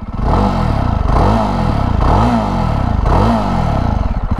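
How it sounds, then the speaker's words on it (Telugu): A loud, close 2023 Jawa 42 Bobber motorcycle engine with twin silencers revved in four repeated bursts, the exhaust note rising and falling in a steady throbbing rhythm. "ఇంజిన్ ఆన్ చేసి చూపిస్తా. ఎగ్జాస్ట్ సౌండ్ వినండి."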